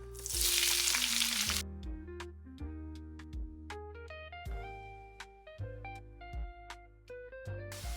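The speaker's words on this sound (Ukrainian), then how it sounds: "На сковорідку налила олії, вона вже нагрілась, відправляю сюди цибулю." Onions hit hot oil in a frying pan with a loud burst of sizzling that settles to a quieter crackle, while a melodic tune plays over it.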